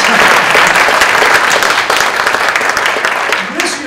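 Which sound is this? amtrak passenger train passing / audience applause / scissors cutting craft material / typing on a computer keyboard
audience applause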